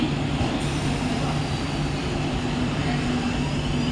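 A loud, steady rumble of a Mumbai local train arriving at a station platform at night fills the whole stretch, with a constant low hum and no pauses.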